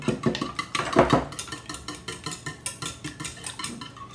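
Eggs being whisked in a bowl with a utensil, a steady run of quick rhythmic scraping and clinking strokes, close and fairly loud, with a heavier burst near the start and no talking.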